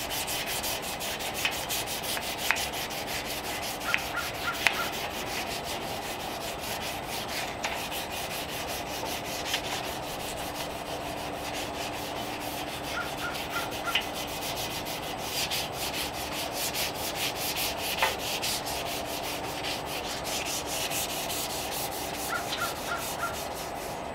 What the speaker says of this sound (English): we'll show you guys a little close-up here with the 600 grit on the cured epoxy here